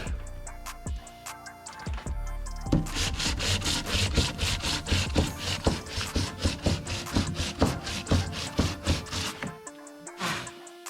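Hand sanding of wood with 60 grit sandpaper wrapped on a block, heard up close as a run of steady, rhythmic rasping strokes after a few scattered knocks, then stopping near the end.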